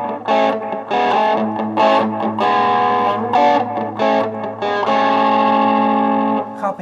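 Electric guitar played through a distortion effect, with thick, saturated chords ringing in loud bursts that build into a long sustained chord, no voices.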